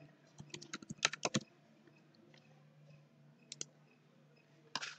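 Keystrokes on a computer keyboard while entering accounting data: a quick burst of close, crisp clicks at the start, then a few isolated taps and a short final flurry, with no voices.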